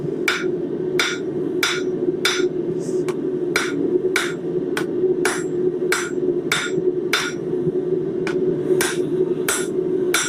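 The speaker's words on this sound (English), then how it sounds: "And we are hammering on all 4 sides" Sharp, evenly spaced hammer strikes on a metal bottle opener blank, squaring its sides, ring out one after another over a constant low hum, loud and close.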